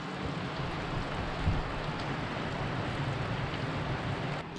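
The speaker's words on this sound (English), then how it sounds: "it's raining, and I'm afraid it's gonna be like that all day." Steady rain falls outside a small cabin on a Scandinavian trip, an even, dense hiss that runs without a break, with no voices.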